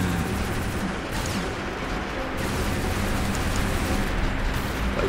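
Weapon fire from a mech in the PC game War Robots, a Cryptic Fenrir MK2: a dense, steady barrage of gunfire and blasts running continuously at close range, with no voices over it.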